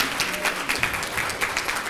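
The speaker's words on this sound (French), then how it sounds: "Il faut vous applaudir." Audience applause during a televised quiz show, a short burst of steady clapping from a studio crowd, moderately loud and dense, with no talk over it.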